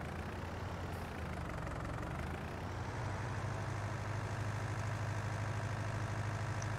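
Tractor engine in Farming Simulator 19, a steady low rumbling drone that idles evenly, then deepens and grows slightly stronger partway through as it keeps running.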